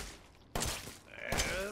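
Glock pistol fire in the horror video game Resident Evil 7, two loud sharp shots about a second apart, each with a short ringing tail, close and prominent.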